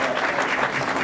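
Dense, steady round of applause from a seated audience at a tribute event, many hands clapping together in a loud, continuous wash with no voices over it.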